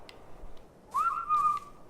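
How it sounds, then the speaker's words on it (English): A person whistles a short rising-then-level tune of two or three notes, clear and close over a faint quiet background. "And I keep whistling."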